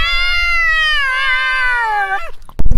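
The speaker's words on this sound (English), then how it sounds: "nobody believes me that there are sewer cats in this town." Sewer cat gives one long, loud, drawn-out meow close by, clear and tonal, cut off by a short burst of noise at the end.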